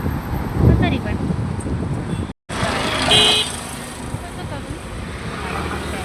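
Road traffic that includes large vehicles rumbles past at a busy crossing near a signal, with engine noise, a short horn toot partway through and a voice speaking over the roar.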